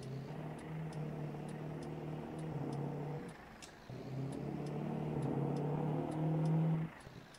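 A GMC 3500HD pickup plowing snow in Farming Simulator 22, its engine droning at mid pitch with rising revs, a short dip partway through, then a strong climb before cutting off; faint regular ticking sits above the engine.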